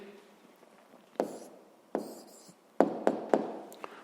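Pen or pencil writing an answer on paper during a sixth-grade maths exercise: a few separate scratchy strokes and taps, close and quiet, in short bursts with pauses between.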